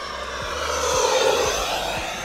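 An RC model F-16 jet in Thunderbirds scheme climbs steeply at full throttle, its loud, steady high-pitched engine whine swelling slightly as it passes nearby, with faint rhythmic ticks underneath.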